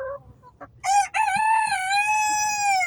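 A rooster crows loudly and close, a long drawn-out call, preceded by a few soft clucks.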